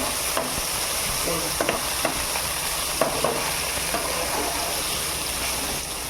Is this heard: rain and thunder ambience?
no